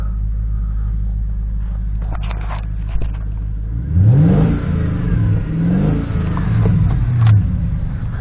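An Audi A8 with a 4.2 engine running on LPG idles with a steady low rumble, then revs up several times midway, close by; the car has a charging fault.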